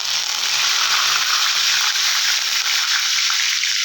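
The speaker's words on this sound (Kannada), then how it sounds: "ಇವಾಗ ಸಾಸಿವೆ ಚಟ್ ಅನ್ನತ್ತ" Mustard seeds and curry leaves crackle and sizzle in hot oil, a dense, steady spitting hiss with fine popping throughout, close and loud, with no talking.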